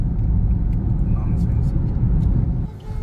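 A car rolls past on a road with a low, steady rumble that fades near the end, while someone talks over it.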